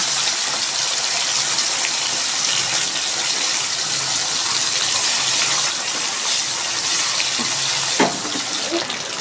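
Bombay duck (lote fish), rubbed with salt and turmeric, frying in hot oil: a steady, loud, continuous sizzle and crackle that fills the whole stretch without a break.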